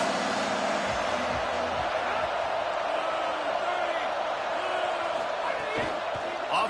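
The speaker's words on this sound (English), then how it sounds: "This crowd trying to make life miserable for this offense." A loud stadium crowd at a college football game against LSU roars continuously, a dense wall of noise with scattered whoops and thuds rising through it.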